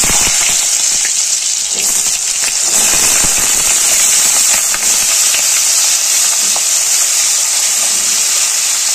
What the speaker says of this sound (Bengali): ফোড়নের মধ্যে আলুগুলোকে দিয়ে দেবো।